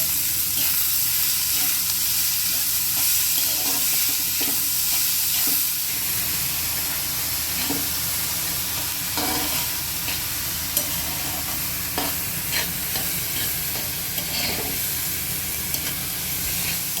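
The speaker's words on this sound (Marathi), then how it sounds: "कांदा आपल्याला आता छान लालसर भाजून घ्यायचा आहे" Finely chopped onion frying in a pan while being stirred, a continuous loud sizzle and hiss with occasional scraping clicks from the spoon, close and steady throughout.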